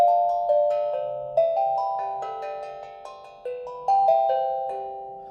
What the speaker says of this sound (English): A little handpan drum like this.